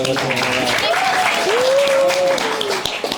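A small group applauds after a correct answer about evolution, steady clapping with voices talking and a sung or drawn-out vocal tone over it.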